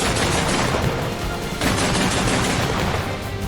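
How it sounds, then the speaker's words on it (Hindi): Rapid gunfire in a war zone during the Russia-Ukraine conflict, a dense continuous burst of loud shots and booms with no pauses, no voices present. "Выстрел! Выстрел!"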